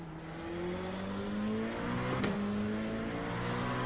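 A race car on cold tyres in a Daytona racing game revs hard through wheelspin, its rising engine tones climbing in layered pitches with a brief squeal, loud and close.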